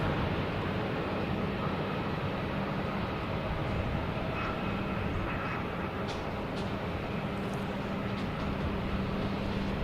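An Air France airliner at Boston Logan Airport, probably lining up for runway 22 left, gives a steady, broad jet-engine roar that holds at an even level throughout, with no talk over it.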